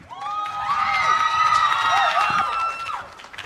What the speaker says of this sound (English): Big round of applause, please, Rutherford College